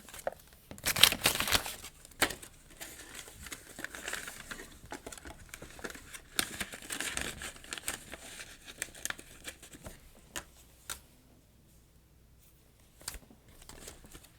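Plastic Build-A-Bag savings envelopes handled at a table for cash stuffing: repeated crinkling, rustling and tapping, busiest early on and sparser toward the end, close and fairly soft.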